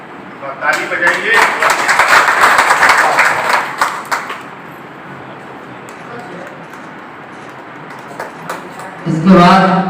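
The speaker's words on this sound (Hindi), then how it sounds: "ताली बजाइए।" Crowd applause at a political party media cell meeting, a loud burst of clapping for the first few seconds that fades into room murmur, with a voice speaking near the end.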